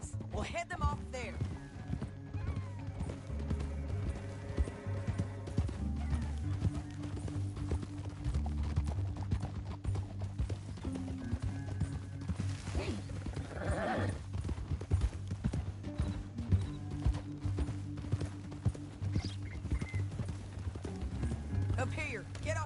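Horse hooves clatter at a steady galloping pace in the video game Red Dead Redemption 2, amid a busy orchestral music bed, with a whinny breaking through partway.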